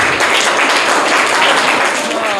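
Loud, dense applause from schoolchildren rewards a correct answer in a classroom quiz competition at a government school. The clapping is sustained and close, with no pause.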